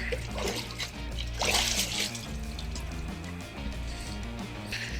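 Resin 3D-printed One Page Rules grunt robot miniatures are swished in a washing liquid, making close splashing, sloshing and trickling with a brief louder splash early on.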